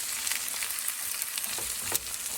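Four eggs fry in melting butter in a pan, a steady close sizzle and crackle with faint scraping as the whites are moved around, no voices.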